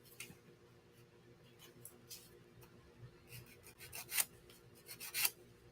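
A nail file rasps over acrylic nails in short, quiet strokes, with a few louder scrapes near the end and faint background hum.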